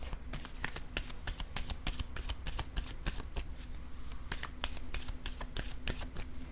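Tarot cards shuffled continuously in a quick, steady run of crisp riffling clicks, close and fairly quiet, with no voices over it.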